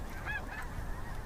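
A few faint, distant honks come from snow geese flying overhead in a wave of birds against quiet background noise.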